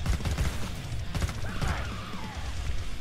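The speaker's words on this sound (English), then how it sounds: "Mind you, this gunfire is really fast." Rapid assault rifle fire in the video game Killing Floor 2, a dense run of fast shots bursting in close and loud, with crashing impacts between volleys and no talking.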